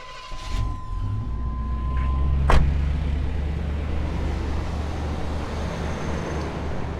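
The starter motor on an old road-trip vehicle cranks its engine, beginning with a clank and settling into a loud, steady rumble that runs for several seconds, with no voices.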